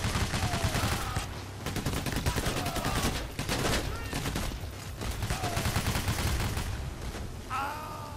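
Rapid automatic gunfire in the heist shooter Payday: The Heist, near and loud, bursts nearly continuously with short gaps and brief pauses between volleys, mixed with faint game effects and occasional voices.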